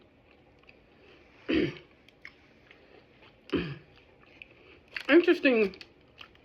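A Burger King flame-broiled burger is chewed up close in a few short wet bursts, separated by quiet pauses, with murmured appreciative sounds and brief speech mixed in.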